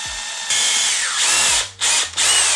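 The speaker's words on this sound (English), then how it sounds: "when you start to drill into this thing" A close, loud power drill whines in several bursts, revving up and grinding as it bores a hole into a tripod part, with brief pauses between runs.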